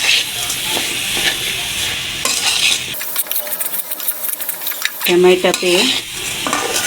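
Long vermicelli (semai) roasts in a pan with grated coconut, stirred with a utensil that scrapes and clinks against the metal over a bright sizzle, close and loud, with a brief spoken word.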